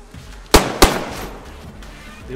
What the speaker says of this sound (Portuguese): Dei um tiro em alguém.